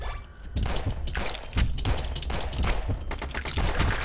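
Rapid repeated shotgun blasts from the zombie shooter game Zombie Grinder, loud and close, firing in quick bursts with booming thumps over a constant background of game noise.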